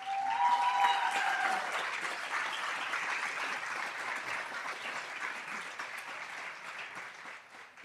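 An audience claps for honored teachers of the year at an education awards event, a sustained, moderately loud round of applause that slowly fades, with a faint whistle or cheer near the start.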